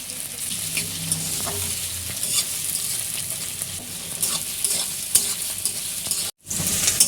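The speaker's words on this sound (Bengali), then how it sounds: "ওই তেলের মধ্যে আমরা এবার দিয়ে দেবো পেঁয়াজ কুচি, দিয়ে ভালো করে আমাদেরকে পেঁয়াজটাকে একটু লাল লাল করে ভেজে নিতে হবে।" Chopped onions fry in hot oil for a Bengali chicken posto dish, a loud, close, continuous sizzle with scraping stir strokes throughout, cut by a short moment of silence near the end before the frying resumes.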